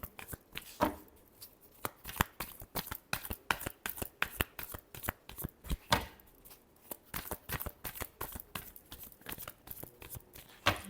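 Tarot cards being shuffled by hand, a steady run of crisp, papery riffles and slaps up close, with irregular bursts and short pauses throughout and no talking.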